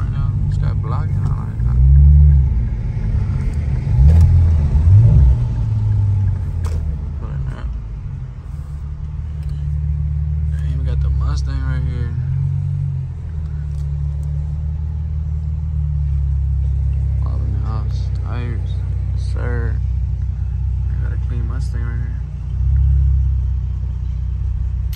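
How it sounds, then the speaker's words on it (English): An Infiniti Q60 rolls into a shop with a steady, loud low engine rumble that keeps going throughout, and people talk over it now and then. "here we are about to pull into the shop right now"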